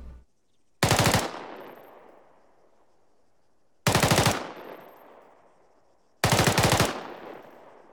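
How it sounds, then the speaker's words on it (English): M4 rifle firing full-automatic: three short, loud bursts of rapid shots, spaced a few seconds apart, each followed by a long, fading echo. "a cyclic rate of fire with the M4 is going to sound something like this"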